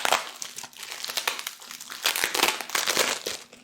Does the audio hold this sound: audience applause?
no